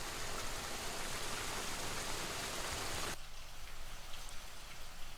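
Spring rain falls steadily on a rural hillside fern-farming village in Korea, a dense, even hiss of drops that drops abruptly to a quieter, softer patter partway through, with no voices.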